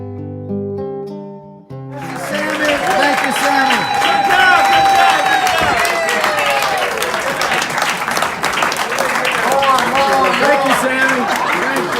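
A room of diners applauds a restaurant chef in Jerusalem with steady, dense clapping that rises suddenly and carries on loud and close, with a few cheers mixed in.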